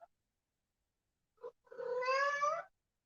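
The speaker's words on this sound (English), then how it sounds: "The cat." A cat meows once: a short, clear, rising harmonic call close to the microphone, preceded by two brief faint chirps, in an otherwise quiet room.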